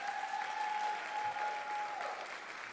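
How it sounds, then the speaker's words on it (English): An audience at an evening Beginning Teacher of the Year awards ceremony applauds the teachers' families, a steady, even wash of clapping that stays fairly soft and distant throughout, with a thin sustained tone humming underneath. "Let's give it a round of applause to the families of the teachers that are here."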